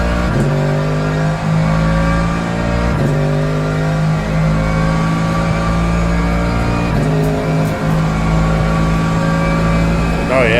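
A Ferrari 499P race car engine in Le Mans Ultimate roars continuously at high revs, with brief dips and climbs as gears shift, loud and steady throughout.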